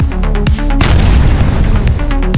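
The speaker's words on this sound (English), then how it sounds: "A wall of tungsten rounds meets an incoming projectile. A loud, visceral, and successful interception." A Royal Navy Phalanx close-in weapon fires tungsten rounds at an incoming projectile, ending in a loud, deep boom that swells into a sustained rumbling roar after a brief tonal lead-in.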